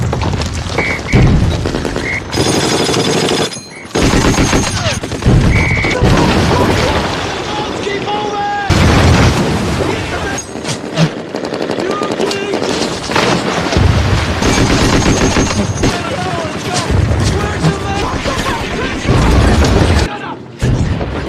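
Heavy gunfire and booming blasts from both sides in a WWII war film battle, loud and nearly continuous with dense cracks and rumbles and brief gaps, with voices shouting through the din.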